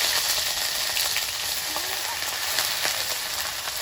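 A dry red chilli and black cumin seeds fry in hot oil in a kadai, giving a continuous crackling sizzle with sharp little pops.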